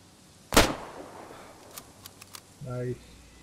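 A single sharp rifle shot while hunting deer in the DayZ video game, loud and close with a quick decaying tail, followed by a few faint clicks and a short voice.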